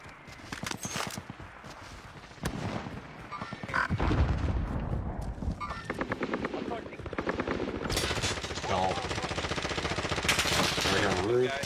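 Heavy artillery and sustained automatic gunfire in the shooter game Warzone, with dense rapid bursts building into a loud, continuous barrage while players talk over the action.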